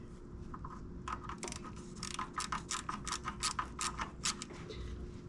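Ratchet wrench tightens bolts on a Jeep Cherokee XJ engine during an oil pump and rear main seal job, quick close clicking strokes in short bursts over a low steady background hum, no talking.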